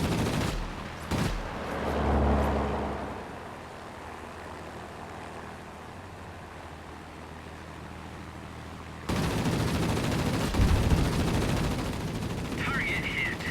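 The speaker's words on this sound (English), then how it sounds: "The weapons have overheated. Rate of fire is reduced." Aircraft machine guns fire in a World of Warplanes dogfight, a loud burst early on over steady engine drone, then a denser roar of gunfire and engine noise in the second half, with speech present.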